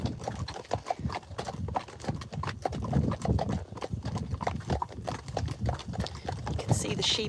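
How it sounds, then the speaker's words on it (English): Steady clip-clop of Friesian horses' hooves on hard ground, a walking rhythm close by, with a person talking over it. "And very beautiful Friesian horses"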